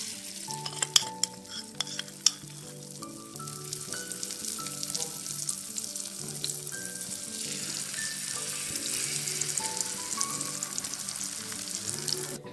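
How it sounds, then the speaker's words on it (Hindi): Beaten egg seasoned with salt and chillies frying in a pan, a continuous loud sizzle with utensil clinks and scrapes scattered over it, no speech. "हमने अंडे को फेंट लिया है और इसमें नमक और मिर्चें डाल दी हैं। अब इसे पैन में डाल देंगे।"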